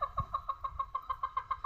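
Chickens are fed onion by hand. A hen gives a quick run of evenly spaced, close clucks at a brisk rhythm, moderately loud, with no talking.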